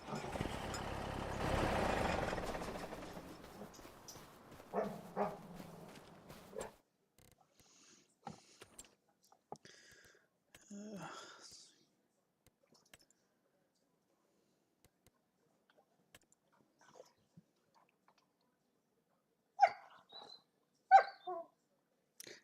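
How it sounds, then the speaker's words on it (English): Pet dogs right beside someone give short, close whimpers and barks, scattered through quiet stretches after a loud rumble of machinery noise at the start. "my dogs are right next to me."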